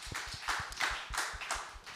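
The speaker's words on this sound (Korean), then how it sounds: "우리 진욱이에 박수 한번 치도록 하겠습니다" Church congregation clapping for a young member during a Thanksgiving service; brief, uneven rhythmic claps at fairly close range, a few hands beating roughly in time for under two seconds.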